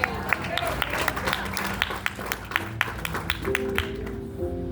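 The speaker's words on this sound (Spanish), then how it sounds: "¿Cuántos dan aplauso al Rey de Reyes?" Church congregation applauding during a Spanish-language sermon, a brisk rhythm of sharp claps spread across the room, with murmuring voices mixed in and a sustained tone entering near the end.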